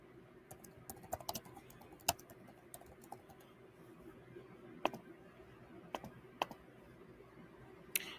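Typing on a computer keyboard, quiet irregular key clicks in scattered bursts with a few sharper strikes, close by and with no talking.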